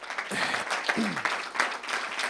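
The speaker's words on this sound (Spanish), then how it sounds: "Un fuerte aplauso también, por supuesto" Audience applause at a Spanish acoustic concert and popular-music composition awards event, a steady wash of clapping from a crowd with a voice briefly speaking over it.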